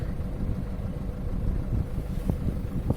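The air suspension compressor of a Citroën C4 Grand Picasso with a suspension fault runs as a steady, low droning hum that holds even throughout, with no talk.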